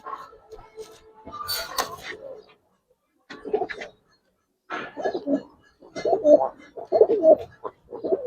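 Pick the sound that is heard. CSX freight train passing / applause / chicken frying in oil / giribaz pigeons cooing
giribaz pigeons cooing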